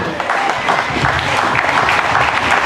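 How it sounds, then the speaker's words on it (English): A crowd applauds for contestant Patty Brown Morgenstern at a salsa festival dancing contest, loud sustained clapping filling the room without a break. "how about a round of applause for Patty Brown Morgenstern"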